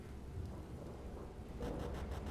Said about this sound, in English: The wind howled fiercely, and I could also perceive the first drops of rain falling.